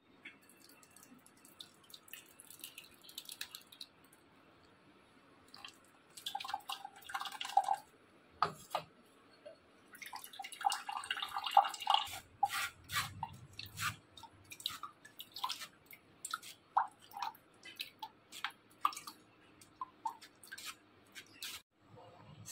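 Beetroot paste juice drips and trickles through a sieve, with scattered wet drips, squelching and splashy bursts of liquid, close and fairly quiet.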